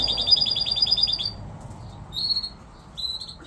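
Fife canaries in a breeding room chirp in a quick rapid trill, then give two short separate chirps, close and clear over a steady low background hum.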